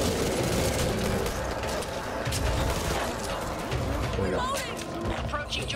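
Dense, continuous gunfire from the video game Back 4 Blood rattles without pause, a thick wall of shots and clatter with voices mixed in.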